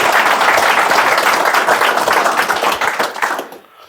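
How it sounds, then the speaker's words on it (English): An audience at a money and finance talk gives a guest a round of applause: steady, dense clapping that holds for a few seconds, then thins and trails off at the end. "All right, big round of applause."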